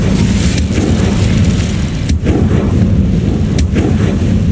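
An Incendio fire spell is cast in the video game Hogwarts Legacy, releasing a loud, dense roaring blast with a few sharper bursts through its length.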